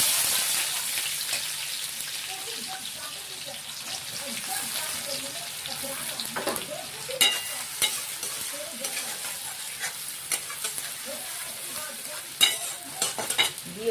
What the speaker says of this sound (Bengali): এখানে কেটে রাখা পেঁয়াজটাও আমরা দিয়ে দিলাম এই ফোড়নে।